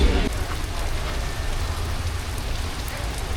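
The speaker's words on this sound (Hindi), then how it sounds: "तो भाई बारिश बहुत ज़्यादा हो रही है" Heavy night rain falls steadily in Merida, Mexico, a dense, loud hiss of drops pattering on surfaces that continues without a break, with no voices over it.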